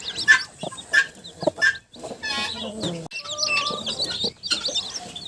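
A broody hen clucks in short, close bursts while chicken chicks and guinea fowl keets around her peep and chirp in high, rapid calls.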